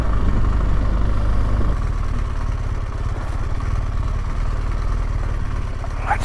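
Heavy old motorcycle fitted with Michelin Anakee Wild tyres ridden along a rutted track, a steady low engine drone with rough chugging that eases slightly partway through, no talking.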